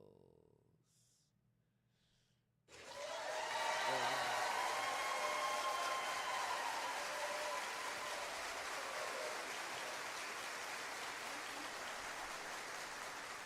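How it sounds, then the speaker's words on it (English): Applause sound effect played from audio files during a live stream, starting abruptly after near-silence and continuing as a steady, even wash of clapping with crowd texture to the end. "Does the clapping not go anymore?"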